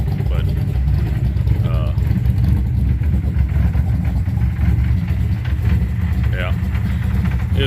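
Loud unmuffled truck engine rumbling and revving steadily for the whole stretch, deep and close, with voices faintly mixed in.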